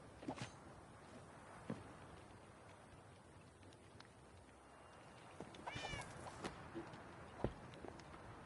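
A cat gives a few faint, distant meows, with a clearer one near the middle, over a quiet patter like rain and scattered knocks.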